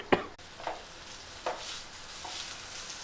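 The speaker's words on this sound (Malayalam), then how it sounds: "ഇതൊക്കെ ഇട്ടിട്ട് ഇങ്ങനെ ഇളക്കുക" Sausage chukka frying in a pan, stirred with a few distinct scraping strokes over a soft, steady sizzle; close and fairly quiet, with no talking.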